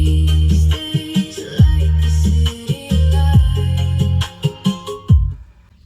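Music plays through a car audio system's front three-way speakers and kick speaker, with a heavy bass line pulsing under brighter upper tones. It stays loud and steady before cutting off near the end.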